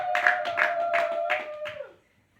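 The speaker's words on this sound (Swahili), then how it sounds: "Ongeza makofi tena" A church congregation claps in quick rhythmic bursts, about five strong claps over a sustained musical tone that fades out, followed by silence.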